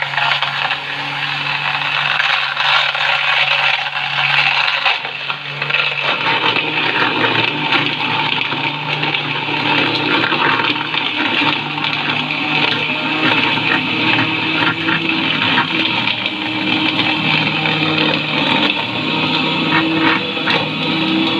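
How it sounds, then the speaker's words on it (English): A hand blender churns cold coffee with ice cubes, giving a loud, steady whirring and sloshing roar that starts up about five seconds in and runs unbroken to the end, with no talking. "now I will blend it with a hand blender"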